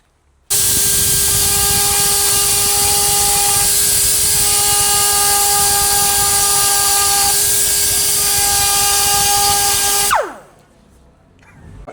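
A power tool cuts a brake line clip on a Honda Civic EP3 Type R, a loud steady whining hiss with tonal bands that runs about ten seconds, then stops sharply and spins down.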